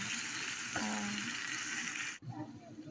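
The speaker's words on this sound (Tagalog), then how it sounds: "so igisa na natin yung ating corned beef" Corned beef sizzles steadily as it sautés in a hot pan, a dense, continuous frying hiss with a brief stir partway through and a voice speaking over it.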